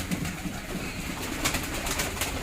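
Pigeons cooing steadily at feeding time in a coop, soft repeated low coos close by under a constant background hum, with faint higher chirps and rustling later on.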